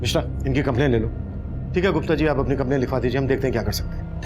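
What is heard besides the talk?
No distinct noise like a dog, phone or traffic.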